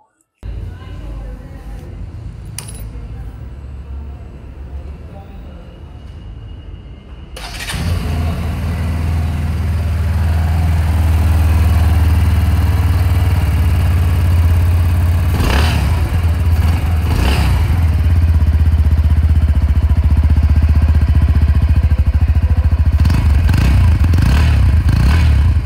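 2024 Bajaj Pulsar NS 125 motorcycle, quiet at first, then its engine starts and settles into a steady close idle, with a few sharp revs blipping up over the running engine.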